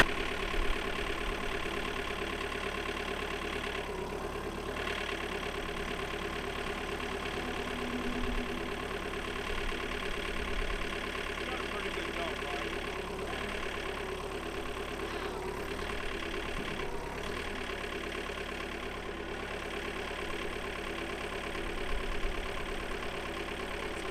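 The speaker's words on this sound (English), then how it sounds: "all the Yanmar tractors start really easy" A Yanmar compact tractor engine idling close by, a steady, even mechanical drone with a faint rhythmic knock that holds unchanged for the whole stretch, with no voices.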